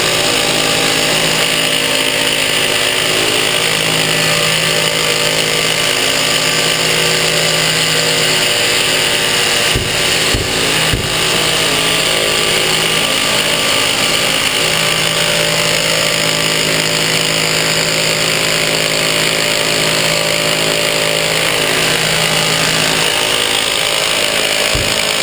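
A steady, loud mechanical drilling drone from a DrillBoss drill rig boring a hole runs throughout, broadband and continuous, with a few brief sharp knocks near the middle.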